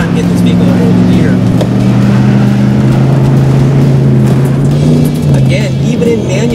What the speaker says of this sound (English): RPMs are just bouncing. It really needs to hold that gear.